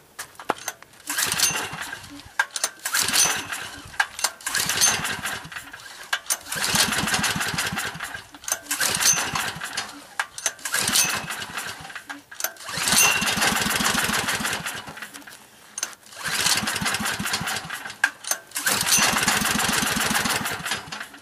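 A small generator engine sputters and fires on synthetic gas from a wood stove gasifier, running in loud uneven bursts that surge and drop as it struggles to catch, with brief gaps between the rough runs.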